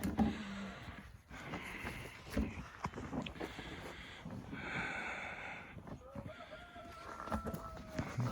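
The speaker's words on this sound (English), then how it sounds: "You can hear the rooster." A rooster crows from inside a winter chicken coop in extreme cold, about minus 38 Celsius, a fairly faint, drawn-out call late in the clip beneath breathing, rustling and shuffling close by.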